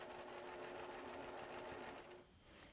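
Sewing machine chain piecing a rainbow log cabin quilt block, a steady close whirring run of needle strokes that slows and stops near the end, with no talk.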